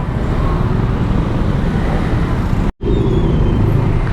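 Dense, congested road traffic of cars and motorbikes on the Pantura route near Cikampek: a loud, steady roar of engines and tyres close by, cut by one brief dropout near the end.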